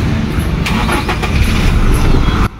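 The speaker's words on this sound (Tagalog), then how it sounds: "paandarin natin ang makina" A Toyota Conquest engine cranks and starts, a loud, steady, close mechanical roar filling the whole stretch before cutting down sharply at the end.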